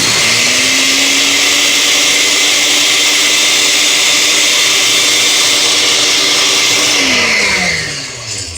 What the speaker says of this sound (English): It's like this blender is a little funny.